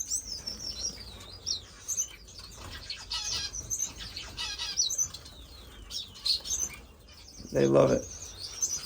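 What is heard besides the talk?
pet birds chirping and flapping in a bird room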